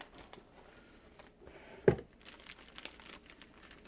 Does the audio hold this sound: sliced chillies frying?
no